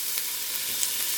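Vegetables fry in a hot pan, a steady close hiss and sizzle with no talking over it.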